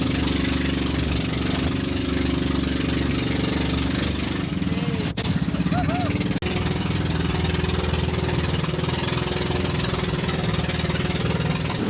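A boat engine drones steadily throughout a boat journey near Puerto Princesa in the Philippines. The low hum stays constant and fairly close, with no talk over it.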